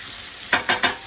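Pantry pasta ingredients cooking down in a hot pan before garlic goes in: a steady sizzle broken by three quick, louder stirring swishes near the end.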